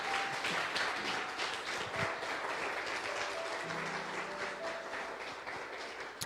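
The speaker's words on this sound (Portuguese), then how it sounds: "Aplaude bem forte o nome do Senhor" A church congregation claps together during a service, a continuous, fairly soft patter of many hands, with faint sustained keyboard tones underneath.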